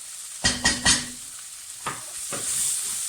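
Herbs get stirred into vegetables sizzling in a pan for a hearty sausage casserole, with a few quick scraping stirs early on and another pair later over a soft, constant frying hiss.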